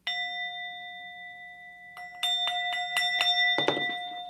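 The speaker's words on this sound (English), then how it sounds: "I am going to be hitting the bell" A bell struck repeatedly indoors, first one long ringing tone that sustains and decays, then a quick series of about six strikes close together, ending in a louder cluster; clear and near, with no talking.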